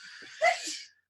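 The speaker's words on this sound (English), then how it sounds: "I heard the counselor sneeze" A single short sneeze from a woman counselor, somewhat distant and moderately loud, with a sharp burst of breath, alone without talk.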